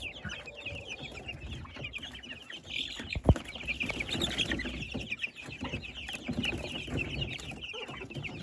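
Hens and young chicks cluck and cheep steadily inside a chicken coop, a busy continuous chorus of close fowl calls with one sharp knock partway through.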